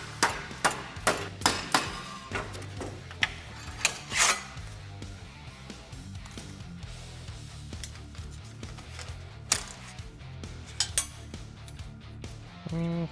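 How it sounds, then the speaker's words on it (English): A dead blow hammer strikes 20 gauge sheet metal to finish bends, a series of sharp metallic knocks, fast clusters early then sparser single hits, close and ringing in a quiet workshop. "Once I get it down a little bit, I'm just gonna use my dead blow hammer"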